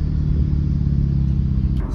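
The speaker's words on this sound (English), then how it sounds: "So right now we're idling at a red light" A turbocharged 8th-generation Honda Civic with a custom intake idles at a red light, giving a loud, steady low rumble heard from inside the car, with a brief faint shift near the end.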